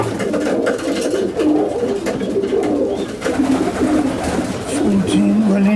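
A racing pigeon hen cooing up close, repeated low throaty coos rolling in a steady rhythm over several seconds, with faint handling noise in the background.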